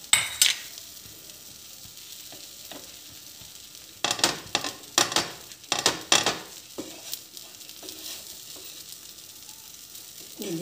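Cheese garlic bread toasting in a pan over a low flame, soft sizzling under intermittent scraping and clattering as the bread is pressed and moved with a utensil.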